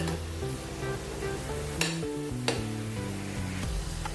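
Spice masala fries in oil in a covered pan for sev bhaji, a soft steady sizzle with a few light clinks of a spoon or lid against the pan, and no voices.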